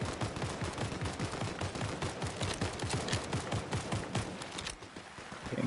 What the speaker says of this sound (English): Three different types of gunfire by the look of it.